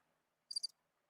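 A short crickets-chirping sound effect: one brief high trill of a few quick pulses, faint and alone against near silence.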